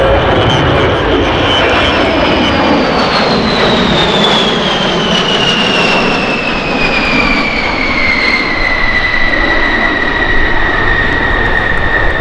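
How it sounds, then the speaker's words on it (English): A B-52 bomber flies past at an air show in Cocoa Beach, a loud, continuous jet roar with a descending whine as it passes, filling the scene with no voices. "We're honored to fly B-52 and B-1 at today's air show."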